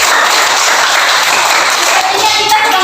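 Audience applause in a presentation setting, a dense, loud burst of clapping filling the whole stretch with little variation and no clear voices over it.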